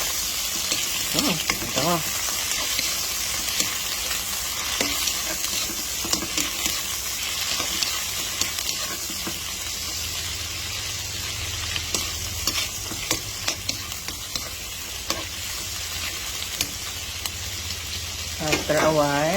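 Shrimp with onion and garlic frying in a pan, a sustained loud sizzle with intermittent utensil scrapes and clicks, a voice speaking briefly near the start and end.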